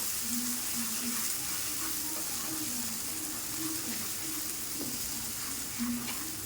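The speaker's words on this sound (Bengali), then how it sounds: "দিয়ে দেবো কাশ্মীরি লঙ্কার গুঁড়ো, আর দিয়ে দেবো চিনি। ভালো করে কষিয়ে নেব।" Jackfruit curry masala frying in a pan with Kashmiri chili powder and sugar, a steady dense sizzle throughout with faint stirring scrapes, close and even.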